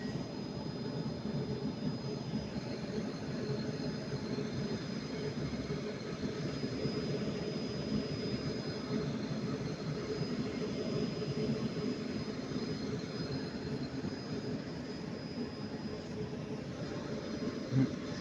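A Northern train idles at Manchester Piccadilly station as it prepares to depart, a steady low diesel rumble and hum filling the platform continuously with no clear rise or break.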